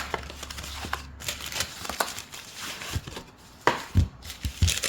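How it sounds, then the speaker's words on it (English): Lard being unwrapped from its package for homemade pastry, a run of close, sharp paper crinkles and tearing rustles with a few firmer taps near the end. "I'm going to open my package of lard"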